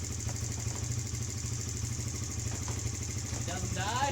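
Kawasaki KFX50 ATV, a small quad being readied for sale, idling steadily with an even, rapid low putter and light mechanical clatter close by, while a person speaks briefly near the end.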